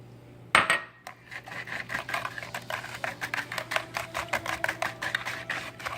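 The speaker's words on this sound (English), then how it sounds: "Some butter, okay, and then I'll whisk that as well" Butter and sugar being whisked together in a bowl for bread pudding: after an initial clank, a rapid, steady run of rhythmic metallic whisk taps against the bowl continues throughout, close and fairly quiet, with no talking.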